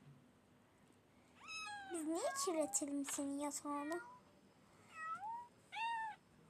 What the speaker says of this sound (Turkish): Bu kedi niye uyumuyor?